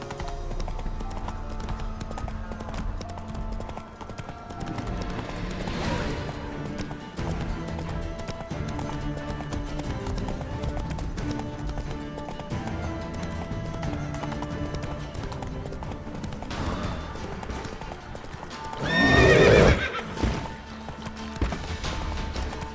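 Roach, the horse in the Witcher 3 video game, gallops with rhythmic hoof clip-clops over game music, with a loud crashing burst near the end and a horse snort or whinny.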